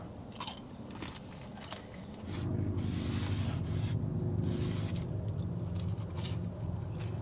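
Breakfast being eaten inside a van, close crunchy bites and chewing over a constant low engine-like hum that starts partway through.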